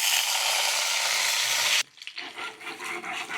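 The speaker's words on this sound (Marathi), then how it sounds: "आपण आता फ्राय पॅन मध्ये तेल घालून घेऊ। आपण आता अंडे फ्राय करून घेऊ।" Eggs frying in hot oil in a frying pan, a loud steady sizzle that cuts off abruptly partway through and gives way to softer crackling and stirring noises.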